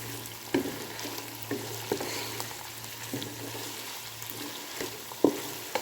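Mixed vegetables with cabbage and capsicum are stirred in a pan, a soft ongoing sizzle punctuated by several distinct scraping knocks of the spoon at irregular intervals.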